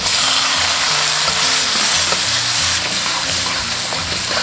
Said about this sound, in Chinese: 锅中倒食用油，下入葱姜蒜炒香，炒香过后下入西红柿